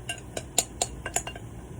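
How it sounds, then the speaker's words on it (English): A utensil scraping casserole food out of a bowl while making a sausage, potato and green bean casserole, heard as a quick series of sharp, close clinks and scrapes in an uneven rhythm, with no voices. "Scrape this out of this bowl."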